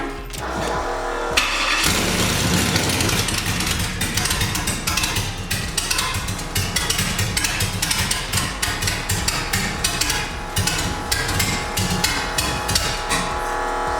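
A 5.3 V8 swapped into a two-door boxy car runs loud and steady after a sharp start at about one second, with a continuous rough rumble and repeated knocking transients throughout.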